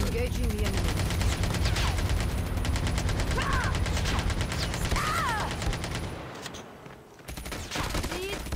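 Rapid automatic gunfire from Call of Duty Mobile crackles loud and nearly nonstop for about six seconds, breaks off into a brief hush, then resumes, with a few whistling in-game effects over it.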